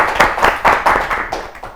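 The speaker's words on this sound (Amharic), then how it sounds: "በደንብ አጨብጭቡላቸው፣ በደንብ አጨብጭቡላቸው።" Children in an Ethiopian classroom clap together for fellow students, a dense run of quick, overlapping hand claps at close range with no talking over it.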